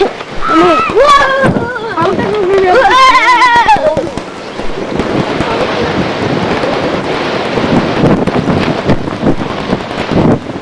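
Strong wind at a nighttime outdoor gathering buffets the microphone in loud, continuous rumbling gusts while people speak briefly at the start.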